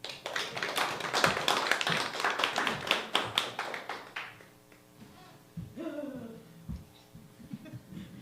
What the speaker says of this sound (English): Can we have another round of applause for Steve?